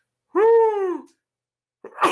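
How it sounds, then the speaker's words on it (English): A single loud, close sneeze with a strong harmonic vocal burst, followed by a short silence and a brief breathy noise. "I'm going to sneeze."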